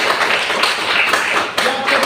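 Brief burst of hand clapping from a classroom of students, dense and fairly loud for about two seconds.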